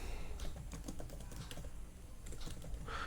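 Typing on a computer keyboard while writing in Google Docs: a steady, close run of quick key clicks and taps lasting a few seconds, with no talking.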